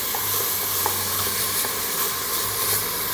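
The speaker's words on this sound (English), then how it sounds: "I'm going to turn the heat to low and saute that for about a minute and a half." Onions and hot peppers sauté in a pan over low heat, making a steady, dense hiss of frying with faint soft taps underneath, continuous and close, with no talk.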